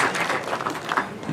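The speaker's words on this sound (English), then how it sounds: "Let's give a good clap for Steve." Brief burst of audience clapping at the launch of an autism center, a moderate spread of claps with a few sharper hand strikes standing out.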